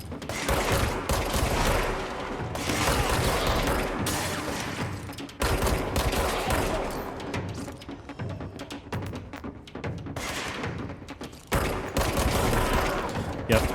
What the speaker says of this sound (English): Yep, the shooting in this feels pretty good.